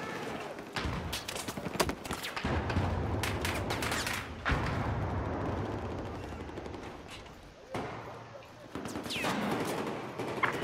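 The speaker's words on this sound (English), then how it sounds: "I'm being shot through the roof, I swear I am." Gunfire crackles through a Battlefield 4 domination match on the Giants of Karelia map, with dense bursts of rapid automatic shots and heavy reports that run almost continuously, loud and close, with brief lulls between volleys.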